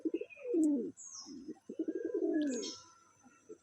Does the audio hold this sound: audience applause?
no